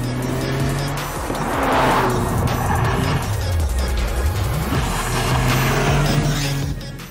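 A 2023 Toyota Corolla GR accelerates hard out of a corner on a track, its engine note climbing and shifting close and loud, with tire squeal layered over the steady roar.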